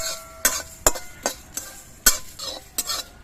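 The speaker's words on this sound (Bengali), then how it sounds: "মশলাটা ভাজা হয়ে গেছে, এই মশলাটা আমি নামিয়ে রাখছি।" Panch phoron, fennel seeds and dried chillies are stirred in a pan in a village kitchen, with a spatula sharply clinking and scraping against the metal at irregular intervals over a faint, soft sizzle.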